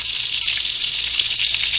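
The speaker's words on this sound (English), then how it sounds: "I got some burgers frying here" Burgers frying in a hot pan give a steady, close, loud sizzle with no break and no voices.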